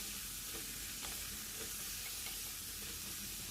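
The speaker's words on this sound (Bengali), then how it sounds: "খুব ভালো করে নাড়াচাড়া করে নিতে হবে।" Pumpkin pieces frying in a pan with salt and turmeric while being stirred, a dense unbroken hissing sizzle, steady and close, without clear separate strokes.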